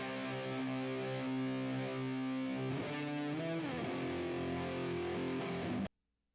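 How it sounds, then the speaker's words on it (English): A mixed music track in Audacity plays with a reverb effect applied, a dense, continuous sustained wash of layered tones that shifts chords midway and then cuts off abruptly into silence. "I'm just going to go use their reverb."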